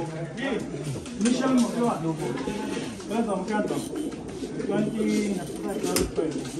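Racing pigeons coo in soft, repeated throaty bursts close by in a loft during a 500 km special race from Dalmeny, with background chatter and rustling around them.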